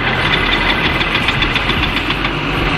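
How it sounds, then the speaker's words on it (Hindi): Bajaj Pulsar NS200 motorcycle engine cranking without petrol, failing to start, a steady loud mechanical churning and knocking that runs unbroken from start to end. "ये देखो गाड़ी स्टार्ट कर रहा हूँ, स्टार्ट नहीं हो रहा।"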